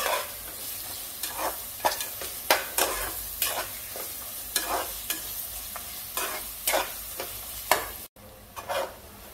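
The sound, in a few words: ginger, garlic, chilli and coriander paste frying in oil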